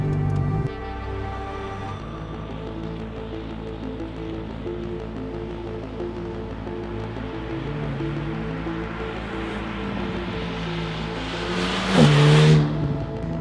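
An Alpine A110 Ravage drives the Ferté-Gaucher circuit, its engine droning steadily from inside the car and rising in pitch, then surging into a loud rev near the end.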